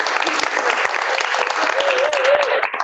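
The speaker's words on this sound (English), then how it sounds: "Can we clap now?" Board members and attendees at a school board of education meeting break into steady, close applause after a unanimous vote. The dense clapping lasts the whole few seconds, with a faint voice briefly underneath.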